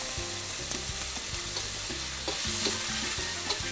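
Water hits a hot pan of chili sauce made from red pepper paste during Thai cooking, setting off a loud, steady sizzle and frying hiss with stirring scrapes and light clatter throughout.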